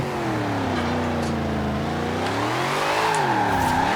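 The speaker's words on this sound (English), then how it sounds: "Nice loud supercharger." A supercharged car in the racing game Forza Horizon 4 howls with a loud, close engine whine that sweeps down and then climbs again as the driver eases off and gets back on the throttle.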